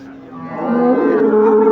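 A dairy cow lows loudly and close at a live animal market in Çubuk, Ankara, one long rising moo that swells and holds to the end.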